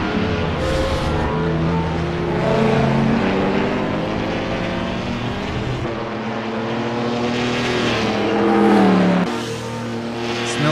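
Several historic race cars in Assetto Corsa roar together in a close pack, engines rising and falling through gear changes as one car tucks into another's slipstream, loud and continuous with no talk.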